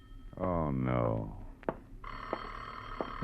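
A telephone rings in an old-time radio detective drama, starting after a man's spoken line with a steady electronic tone and bright repeated bursts, close and clear.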